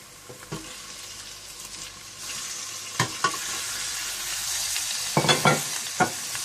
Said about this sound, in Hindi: थोड़ा सा भूनने के बाद आप इसमें मटन डाल दें।